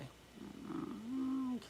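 A kitten being picked up gives a short low purring, growly rumble that swells into a steady sustained tone for about a second, close and alone.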